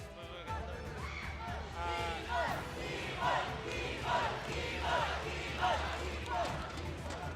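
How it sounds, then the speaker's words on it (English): A crowd cheers for a player at the M5 World Championship knockout stage, a mobile esports tournament, a steady roar of voices with rhythmic chant-like swells under a commentator's talk. "The crowd is cheering for Keyboy like he's going to a grand finals matchup"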